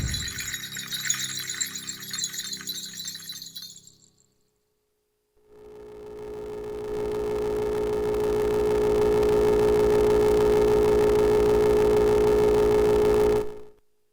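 A buzzy chiptune tone from a Cre8audio Chipz Eurorack oscillator drones at a steady pitch for several seconds, alone, preceded by a brief burst of rattling electronic noise and a pause.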